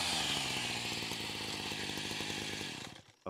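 A small two-stroke weed whacker engine runs loudly up close, chugging rhythmically as it warms up, then winds down and cuts out near the end.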